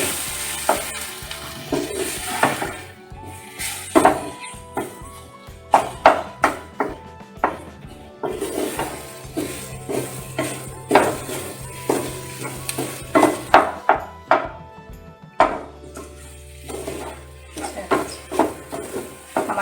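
Aloo samosa stuffing is stirred in a pan over the stove, with repeated loud scrapes and clacks of the spoon against metal over a soft sizzle, in irregular bursts for about twenty seconds.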